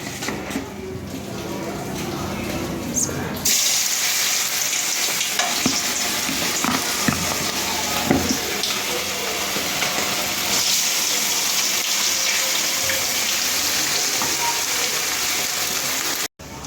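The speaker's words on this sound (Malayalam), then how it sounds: "അപ്പോൾ നമുക്ക് ഇതൊന്ന് വറുത്തെടുക്കാം" Beef pieces frying in hot everyday cooking oil in a pan for beef chilli, a loud, continuous crackling sizzle that swells suddenly after a few seconds and stays strong with stirring.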